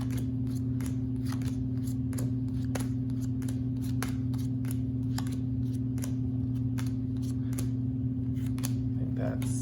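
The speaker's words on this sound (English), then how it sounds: "For a two-player game, I'm going to deal out 7 cards" Playing cards for the Onslaught card game being dealt one at a time for a two-player hand, with crisp, regular snaps and flicks over a steady low hum and brief light talk.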